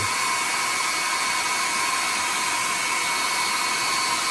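A hair dryer drying paint on a carved wooden chickadee blows continuously at a steady, moderate level, a constant airy whir with a high whine and no other sounds.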